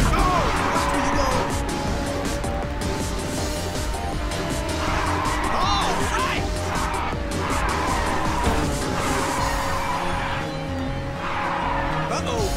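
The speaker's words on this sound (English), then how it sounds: "Someone fired off some nitrous!" Race cars roar continuously in Ridge Racer 6 as a nitrous boost fires, with engine whine, tire squeal and occasional thuds, all under constant excited talking.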